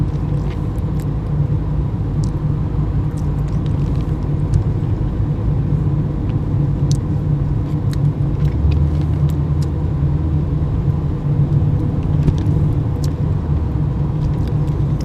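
A car cruises westbound on the FL-50 highway between Ocoee and Clermont, Florida, passing other vehicles; a steady, loud engine-and-tyre rumble fills the whole stretch with no letup and no voices.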